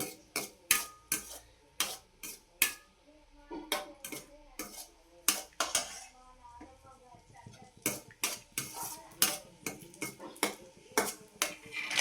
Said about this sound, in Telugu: నెయ్యి వీటెక్కిందండి ఇందులో కిస్మిస్ వేసుకుందాము ఇవి బాగా యాగనిద్దామండి